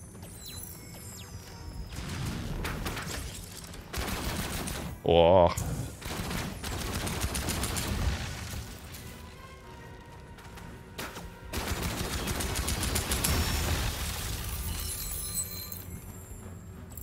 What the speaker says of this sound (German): Eine Kanone, krass.